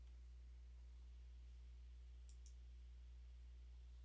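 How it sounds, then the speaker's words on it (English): A computer mouse gives two soft, quick clicks close together, faint against a steady background hiss, with no voices. "I'm clicking OK."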